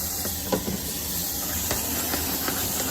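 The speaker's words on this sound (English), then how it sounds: "Let me give my cutting board and knife a real quick wash." Water runs steadily from a kitchen tap while a cutting board and knife get a quick rinse, a broad continuous hiss with faint knocks and splashes, no talking.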